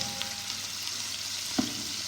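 Chopped onion frying in golden oil in a pan, stirred now and then with a spoon, giving a steady soft sizzle with a couple of brief scrape clicks near the end.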